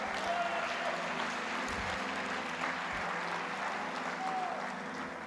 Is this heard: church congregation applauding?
yes